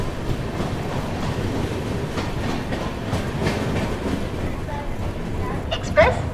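A train hauled by an ALCO locomotive rolls through Kerala with a loud, steady rumble and rhythmic wheel clatter. A brief brighter squeal rises near the end.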